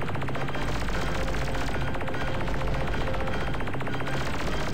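Dense, continuous rapid-fire bursts of missiles and torpedoes in the video game Ultimate Crab Battle, a loud rattling barrage that runs unbroken throughout.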